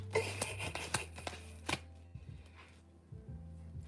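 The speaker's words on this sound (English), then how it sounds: "let me stop being silly and shuffle right" Tarot cards are shuffled in quick riffling bursts, close and fairly quiet, with a few sharp snaps early on and softer shuffling sounds trailing off, without speech.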